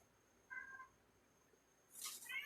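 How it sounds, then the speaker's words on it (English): Pet cat named Sky gives a short, faint meow in a quiet room, followed about a second later by a brighter, louder meow. "If you hear Kitty in the background, I have a cat and his name is Sky."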